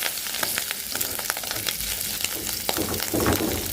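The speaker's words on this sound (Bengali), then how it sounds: "আমি আগে মাছগুলো উল্টায় পাল্টায় ভাজি" Steady crackling sizzle of fish frying in hot oil, with sharp pops and spatters scattered throughout; no voices.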